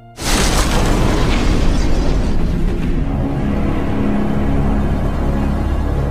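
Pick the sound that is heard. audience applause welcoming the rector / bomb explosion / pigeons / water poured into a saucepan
bomb explosion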